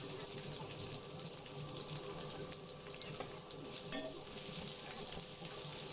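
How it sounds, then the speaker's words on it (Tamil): Onions sauté in oil with cumin, a faint, steady sizzling hiss with soft crackles and a few stirring scrapes throughout. "வெங்காயம் கிளாஸ் கலரில் வர வரைக்கும் வதக்க வேண்டியதுதான்"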